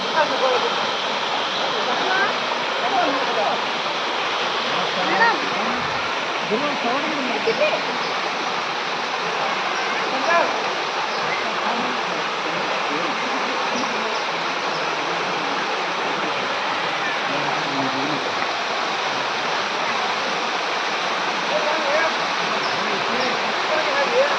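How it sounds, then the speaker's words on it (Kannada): The Bhairavakona waterfall at the Bhairaveshwara temple in Andhra Pradesh, flowing in summer, makes a steady broadband roar of falling water that runs loud and unbroken throughout. "ಭೈರವಕೋಣ ಜಲಪಾತ ಭೈರವೇಶ್ವರ ದೇವಸ್ಥಾನ ಆಂಧ್ರ ಪ್ರದೇಶ್"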